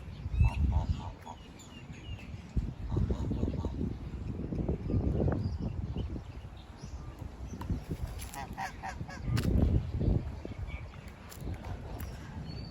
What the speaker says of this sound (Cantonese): 睇下啲鴨幾大聲